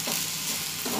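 Onion frying in oil and turning light brown, a dense continuous sizzle heard up close with no voices.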